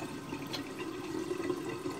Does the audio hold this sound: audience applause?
no